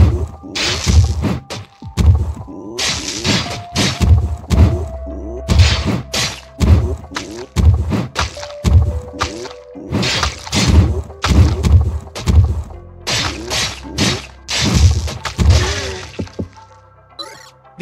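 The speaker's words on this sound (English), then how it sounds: "Now let's attack these multiple Woanopes at once." Combat in the video game Crashlands against several Woanopes at once, a dense run of loud rhythmic whacks, thuds and impact hits repeating steadily throughout with game effects layered over them.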